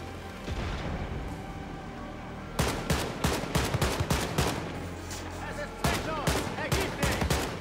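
Gunfire in the shooter Wolfenstein: Youngblood: a quiet opening, then loud bursts of sharp, rapid shots with booming impacts, repeating in clusters while players talk over the action.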